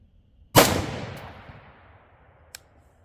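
A single sharp rifle shot from .308 Win match ammunition, Federal Gold Medal Match or AAC 168gr SMK, fires loud and close, its report trailing into a long decay, with a faint distant crack near the end.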